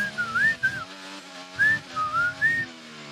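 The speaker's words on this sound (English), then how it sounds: "I was whistling the music." A person whistles a short tune in clear, close melodic phrases with brief pauses between them, alone over faint background noise at a stock car track commentary setting.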